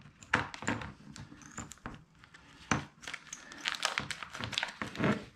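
Scissors snip through crinkly plastic bag material in a series of irregular, close-up cuts, each with a sharp rustling crunch.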